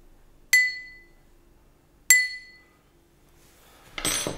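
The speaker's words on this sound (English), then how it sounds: "why don't we record a glass that I have here with a spoon?" A spoon taps a drinking glass twice, each strike a bright ringing clink that decays over about a second, close and clean, followed by a brief rustle.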